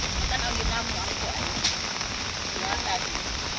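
Heavy rain pours down beside a highway, a dense, steady hiss with scattered drops heard close and continuous, while people talk.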